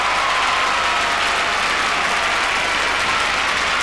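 An arena crowd at the 1992 Olympic rhythmic gymnastics preliminaries bursts into sustained, dense applause and cheering for a Spanish gymnast, loud and steady throughout with no speech over it.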